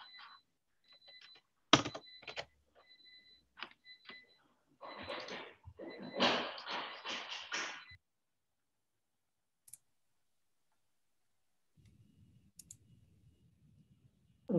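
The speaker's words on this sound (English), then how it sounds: "The beeping should stop in a second," Short, thin electronic beeps repeat quickly at the start of an online CNCF SIG Observability working-group call. They are followed by scattered clicks and a brief murmur of voices, then long quiet stretches.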